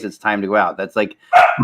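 Dogs bark indoors at a home desk, a short sharp burst cutting in near the end of an ongoing stretch of talk.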